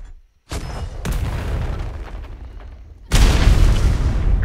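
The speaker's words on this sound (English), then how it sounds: "mortar can continue firing" Mortar rounds fire in a video game, with three heavy, booming launches: one at the start, a second soon after, and a louder one later, each followed by a rumbling tail.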